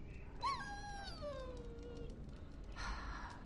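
A dog in the Dragon Age video game whimpers with a high, falling whine lasting over a second, followed later by a brief soft noisy breath, under a low background hum.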